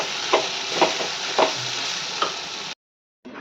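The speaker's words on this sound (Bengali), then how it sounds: "ঘিটা দিয়ে নেড়ে চেড়ে আমি নামিয়ে ফেলবো" Banana flower curry stirred with a spoonful of ghee in a pan, a close, even sizzle broken by a few scraping strokes of the utensil, then a brief silence before it resumes.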